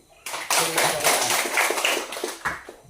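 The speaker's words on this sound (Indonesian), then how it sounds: "Nah, tepuk tangan dulu." A classroom of students clapping their hands together, a burst of brisk mixed applause that starts abruptly, stays busy for a couple of seconds, then fades.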